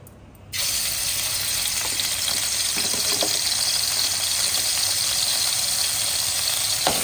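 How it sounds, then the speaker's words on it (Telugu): Ginger garlic paste frying in a spoonful of oil, a steady broadband sizzle that starts abruptly and holds evenly at close range, with a few faint stirring clinks and no voices. "ఈ విధంగా అల్లం తెల్లగడ్డ పేస్ట్ బాగా ఫ్రై అయిపోయింది"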